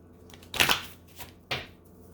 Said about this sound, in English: I just cut open the deck.